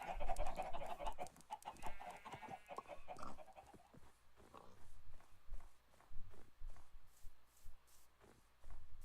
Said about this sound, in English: I don't remember there being so many chickens.